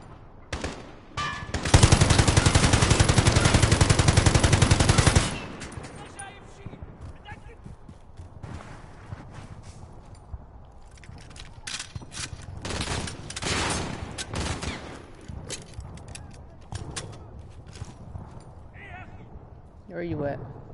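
A cluster strike bombardment in Call of Duty Modern Warfare: a dense, loud burst of rapid explosive fire for a few seconds, followed by scattered blasts and gunfire with a player talking over it.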